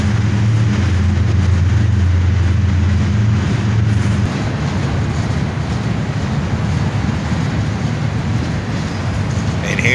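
Freight train with an ES44AC locomotive working hard as a mid-train distributed power unit, a loud steady rumble and roar passing close by, with rail noise continuing throughout.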